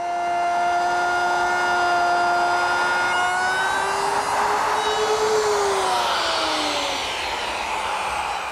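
A wood router cuts a quarter-inch groove in the bottom piece of a wooden drawer: a loud, steady high-pitched whine that holds level, bends down slightly midway, then shifts into a broader roar near the end.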